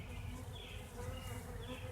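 A swarm of honey bees buzzing inside a nuc hive, a steady close, low drone with a few higher whines of individual bees passing near.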